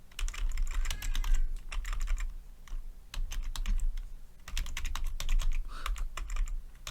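Keyboard typing in bursts of rapid clicks, with short pauses between runs, fairly close and clear while notes on a biblical book classification are written out; no talking.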